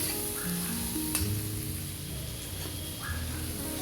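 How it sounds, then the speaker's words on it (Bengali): Chopped garlic and tomato sizzle and crackle steadily in hot oil while being stirred, a close, continuous frying sound with occasional scraping throughout. "রসুন কুচি, টমেটো কুচি, নেড়ে নিলাম।"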